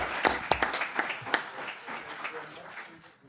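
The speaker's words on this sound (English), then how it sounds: "So let's all give them a round of applause." Brief applause at a city council meeting honoring a coach and team, a few distinct claps standing out early before the sound fades into a soft, distant patter under murmuring voices.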